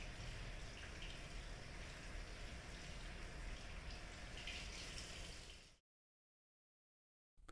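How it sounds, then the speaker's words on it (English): Tap water runs steadily over hands being rinsed, a continuous close hiss of flow lasting several seconds before cutting off abruptly into silence. "Rinse your hands with water."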